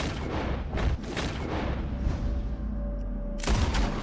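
Gunfire in Red Dead Redemption 2 gives a string of sharp, booming shots in quick succession, with a louder blast near the end, and no talk over it.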